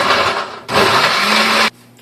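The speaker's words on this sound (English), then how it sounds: "I let the blender run for a few minutes" A Vitamix blender running at full blast on red pepper cashew cream, a loud dense whir in two bursts with a short dip between, then cutting off abruptly.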